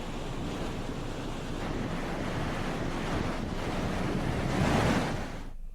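A rain-swollen hillside stream in Uttarakhand rushes loudly and continuously, a dense broadband roar of flowing water that swells slightly near the end, with no voices over it.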